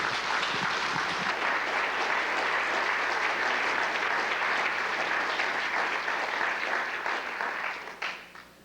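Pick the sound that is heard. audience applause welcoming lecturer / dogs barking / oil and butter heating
audience applause welcoming lecturer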